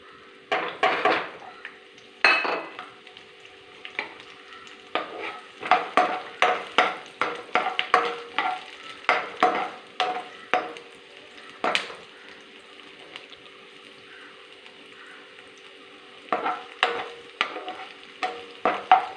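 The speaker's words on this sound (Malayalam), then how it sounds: "ഇതിലോട്ട് നമുക്ക് ഉള്ളിയും വെളുത്തുള്ളിയും വഴറ്റിയെടുക്കാം" Onion and garlic sautéing in a pan for an eggplant curry, with steady scraping and stirring strokes and clinks of a utensil against the pan over a light background sizzle, fairly close, with a few short pauses.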